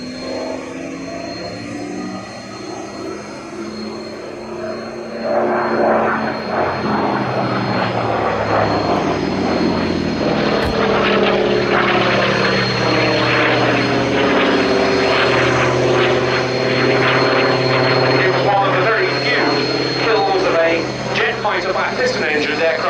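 A Hawker Sea Fury piston-engined fighter, registration G-CBEL, flies a display at the Shuttleworth Fly Navy airshow in 2017, its loud propeller drone rising and sustained throughout as a commentator speaks over the public address.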